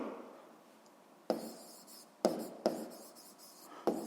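Pen writing notes on paper during a physics exercise: brief scratchy strokes in several short bursts with pauses between, close and quiet, no talking.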